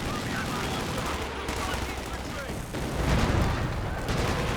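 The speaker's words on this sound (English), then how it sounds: "This close range Katyusha barrage." A close-range Katyusha rocket barrage in Company of Heroes 2, heard as dense rapid crackling bursts and booms that surge louder partway through, with battle noise and voices mixed in.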